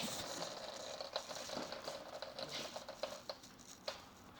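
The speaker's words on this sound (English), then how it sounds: "So it's just raining fuel down." Fuel raining down from a loosely clamped fuel line during an engine swap on a rusted Volkswagen Bus, a faint, irregular patter of drips and splashes close by with no talk.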